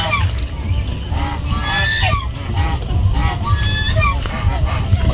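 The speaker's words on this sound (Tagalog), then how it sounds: "Tuloy po tayo sa maliit na pabuhan ni Ambaki para magpakawala ng ilang pirasong pabo" Four-month-old turkeys being let out of a small pen, with dense, loud honking and gobbling calls repeating throughout and a steady hubbub of flock noise. People talk in the background.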